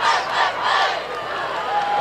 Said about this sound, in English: Crowd showing their appreciation for him as he goes off the field